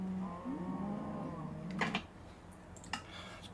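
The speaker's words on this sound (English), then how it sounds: "The cow noises are getting a little bit on my nerves here" Cows mooing in the video game Minecraft, one long low moo up front followed by brief clicks and game sounds, close and fairly clear.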